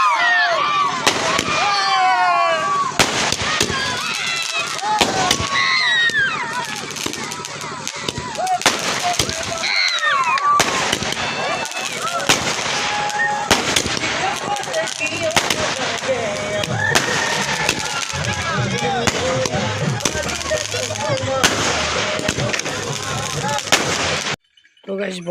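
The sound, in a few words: firecrackers exploding at a celebration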